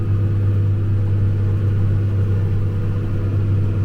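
A tractor engine rumbles steadily while backing up as a baler wraps a hay bale, with a loud, constant low drone close by and no talk.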